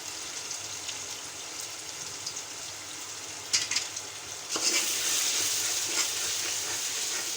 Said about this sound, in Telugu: ఇప్పుడు కారం వేసుకున్నాం కదా ఇప్పుడు దీన్ని మళ్ళీ వేయించుకుందాం